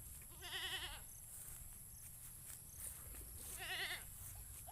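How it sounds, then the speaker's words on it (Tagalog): A goat on a farm bleats twice, each a short wavering call, spaced a few seconds apart over low, steady background noise and a faint high-pitched hum. "Yan yung kambing namin friendship, oh."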